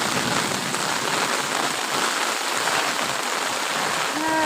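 Rain pours down in a constant, close hiss of drops splashing on surfaces, with a brief faint voice near the end.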